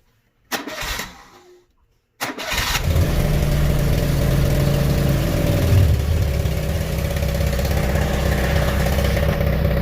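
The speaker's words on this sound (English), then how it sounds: "let me get the bike running here" Motorcycle engine cranked with a brief starter whir, a short pause, then firing up and settling into a steady, loud, close idle rumble that runs on alone.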